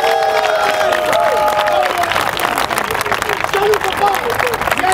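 A crowd applauds and cheers in acclaim of Jesus Christ at a religious gathering, dense clapping and shouts filling the space loudly and steadily throughout.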